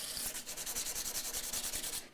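240 grit sandpaper polishes the fret ends on an acoustic guitar, a quick rhythmic run of close, even scratchy strokes with no voices.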